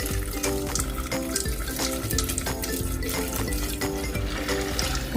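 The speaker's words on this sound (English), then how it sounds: "Then we're going to add the broth." Hot broth poured into a pot of macaroni and cheese, a steady splashing and trickling of liquid that runs without a break, close by and moderately loud, with no voices.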